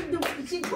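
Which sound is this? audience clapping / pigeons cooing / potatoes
audience clapping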